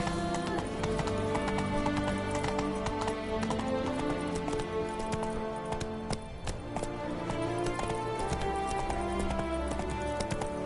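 Roach, a horse in the video game The Witcher 3, gallops with rapid, rhythmic clip-clop hoofbeats under a continuous bed of game music and ambience, steady and prominent throughout.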